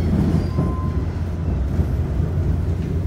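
Adelaide Metro 3100 series diesel multiple unit railcar, an old train, runs with a steady low rumble and drone throughout, constant and close, with faint squeal tones and no talking.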